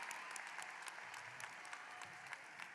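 Steady applause from a graduation audience at a high school ceremony, a dense, even wash of clapping lasting throughout with no voices on top.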